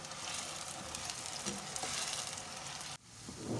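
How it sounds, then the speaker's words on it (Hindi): Diced potatoes fry for a Spanish omelette (tortilla de patata) in a pan, giving a steady, dense sizzle that drops off abruptly near the end before resuming more softly. "आलू हमारे हो रहे हैं फ्राई"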